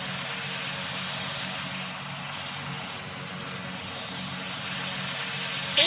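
An ATR 72 turboprop lands in the PTFS flight game, a steady propeller and engine drone that holds fairly level with a slight swell near the end.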